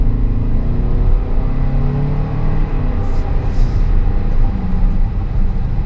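Toyota Sienna hybrid minivan, 2024 model, accelerating from a stop: a steady, loud low rumble of engine and road noise that holds throughout, with no clear rise in pitch.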